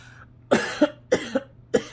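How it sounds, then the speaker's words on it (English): A quick series of dry coughs, about five bursts in two or three clusters, close to the microphone with no talking. "This little cough is coming because of the weather change."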